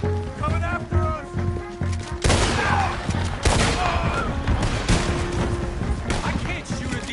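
Red Dead Redemption 2 shootout, with repeated loud gunshots and bursts of fire over a music score and shouted voices, cracks landing close together across the stretch.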